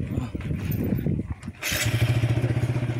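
A motorcycle engine starts after a brief pause and settles into a steady, loud, throbbing idle close by, with a voice talking over the first part.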